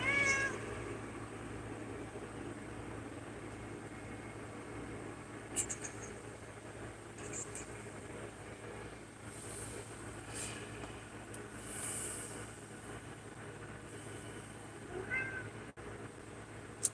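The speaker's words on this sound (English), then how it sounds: "You're a smack talking kitty cat." Cat meowing faintly several times across a long stretch, soft scattered calls over a steady low background hum, distant and quiet with no voices.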